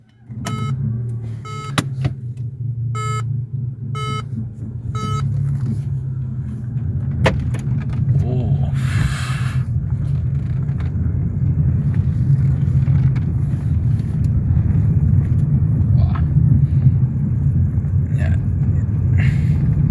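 A Peugeot 208 second-generation hatchback with the PureTech 1.2 liter engine, not yet at operating temperature, runs at a steady low idle rumble, with a few short beeps and clicks early on.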